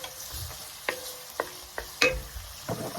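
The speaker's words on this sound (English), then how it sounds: "We're gonna saute this for 5 minutes." Food sizzles in a frying pan with cumin while a utensil stirs and scrapes against the pan in several sharp clacks over a steady low crackle.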